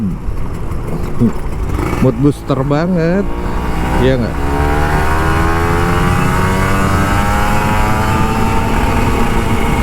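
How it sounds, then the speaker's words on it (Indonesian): Kawasaki Ninja RR 150 motorcycle engine revving hard on an early-morning ride through Jakarta, rising in pitch through the gears and then holding a steady loud drone, with someone talking over it at the start. "enak bener emang ngegas Ninja pagi-pagi"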